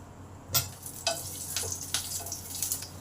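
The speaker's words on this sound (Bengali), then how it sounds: "তেলে একটা কাঁচা লঙ্কা দিলাম" A green chili dropped into hot oil in a pan, giving a faint sizzle with a few short crackling bursts over a low steady hiss.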